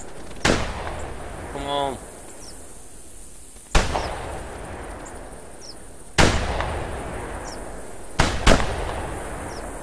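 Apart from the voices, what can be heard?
shotgun firing at geese in video game The Hunter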